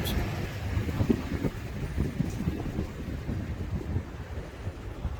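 Strong wind buffets a building site with loose plastic sheeting blowing about, a loud, continuous rumbling roar with gusty surges and no talking.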